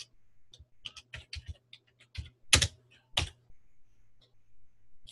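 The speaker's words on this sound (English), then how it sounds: "I'm sort of typing in two different modes over here" Irregular clicks of typing on a computer keyboard, close and fairly crisp, in scattered bursts with short pauses over a quiet low hum.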